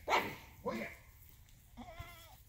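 Two dogs scuffle over food on a homestead, with two harsh, snarling growl-barks up close followed by a softer whining yelp; goats may be nearby.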